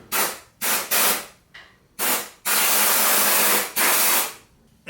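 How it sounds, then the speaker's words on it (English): Short bursts of aerosol cleaner spraying off oil residue on a 2024 Harley-Davidson Road Glide engine during its first service, several quick hisses followed by one long sustained spray, close and loud with no talking. "So I just like to spray it off."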